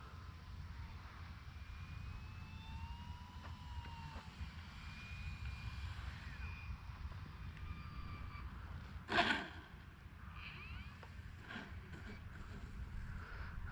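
E-Flite Commander RC airplane coming in to land, its electric motor and propeller a faint, steady distant whine over continuous outdoor background noise, with one short louder knock midway.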